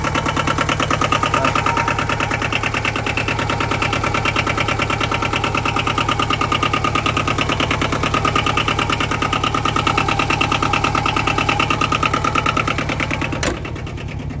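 An engine idles steadily with a rapid, even knocking pulse after being started during repair of a broken-down machine, loud and close, ending with a sharp click near the end.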